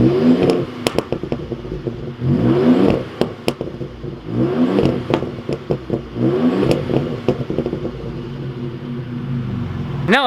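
A 2020 Ford Raptor pickup truck's engine is revved repeatedly, each blip a rising growl that falls back to idle, close and loud with brief clattering between the rises.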